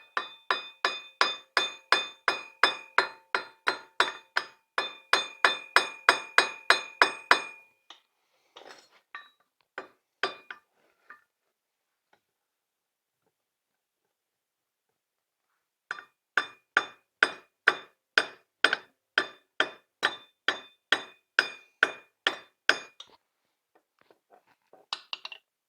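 Metal-on-metal hammer taps drive a wheel bearing into the hub of a Can-Am Traxter, sharp ringing strikes in quick even bursts, a pause, then another rapid run of close, loud blows.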